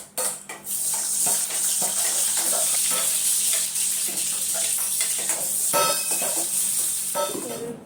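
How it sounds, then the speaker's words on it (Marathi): Loud, continuous sizzling of vegetables hitting hot oil, with a utensil stirring and scraping against the pan throughout. No voices. "आता भाजी फोडणी देऊन देते"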